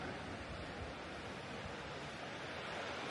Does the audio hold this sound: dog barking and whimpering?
no